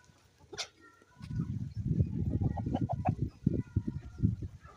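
Country chickens and four-month-old chicks on a farm cluck in dense, overlapping bursts close by, with a brief sharp call near the start before the flock noise swells and holds steady.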